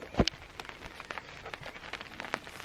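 Rain patters down at a campsite in Catalunya, scattered drops tapping near and far on a surface in an uneven, steady rhythm with one sharper knock early on; no one speaks.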